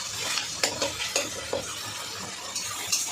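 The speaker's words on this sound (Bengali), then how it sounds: "পেঁয়াজের সঙ্গে টমেটোটাও ভাজা হয়ে যাবে।" Tomato frying with onion in a pan for a country-chicken curry, a soft sizzle broken by irregular scraping and stirring strokes of a spoon, close and fairly quiet.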